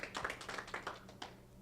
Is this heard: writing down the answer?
no